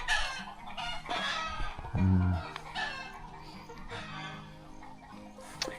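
Farm chickens cluck nearby in short repeated calls, with a louder burst partway through, over an outdoor background and a faint voice.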